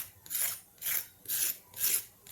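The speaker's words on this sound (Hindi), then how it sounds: "इस कोकी की आवाज़ सुनकर देखिए।" A crispy Sindhi koki, a wheat-flour flatbread, being handled and rubbed, giving four close, evenly spaced dry crackling rasps that sound like a crunchy biscuit, with no talking.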